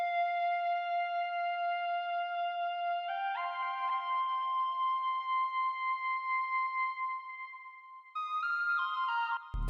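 A clean, bright sine wave synth lead in FL Studio 20 for a West Coast beat, steady tones stepping up in pitch in a simple melodic pattern, sustained and loud, with no other sounds.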